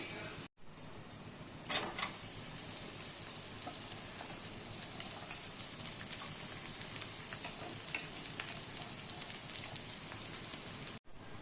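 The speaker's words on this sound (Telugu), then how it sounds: "ఇలా బాగా ఫ్రై అయ్యాక ఇప్పుడు దీనిలో తోటకూర వేసుకోవాలి" Amaranth leaves fry in a pan with carrot curry, producing a faint, steady hiss with a couple of soft clicks near the start and short quiet gaps at the beginning and end.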